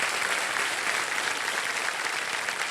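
A studio audience on the game show Kaun Banega Crorepati claps loudly in a dense, continuous wash of applause lasting several seconds.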